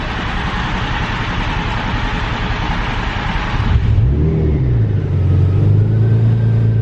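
Nissan 350Z engine running during a crank sensor test, a loud steady close rumble that drops to a lower, smoother idle partway through, with no talk.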